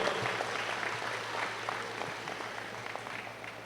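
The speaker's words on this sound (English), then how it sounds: "So give a round of applause, a shout out." Audience applause at a university convocation ceremony, soft and distant steady clapping from a large crowd over a low hum, continuing evenly throughout.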